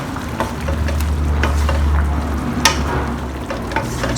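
Potatoes with minced pork and light soy sauce sizzle steadily in a hot wok while being stir-fried, with occasional scraping knocks of the spatula, close and fairly loud, no voices.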